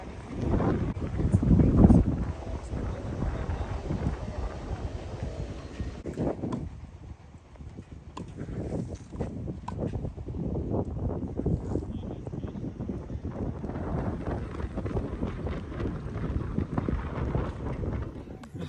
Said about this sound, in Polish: analizujemy trochę jak wieje wiatr. Mocno wieje, co Janek?